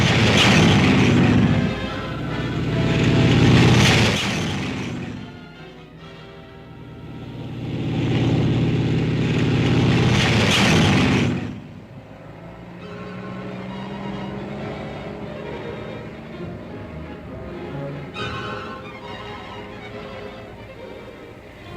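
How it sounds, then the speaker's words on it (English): WWII tanks advancing with artillery fire, two loud booming bursts rolling in and fading, followed by a lower steady engine rumble with grinding mechanical tones, heavy and close. "Tanks move up on the flank."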